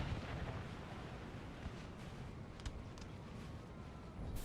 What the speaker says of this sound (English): Another volley from the 4-pounder.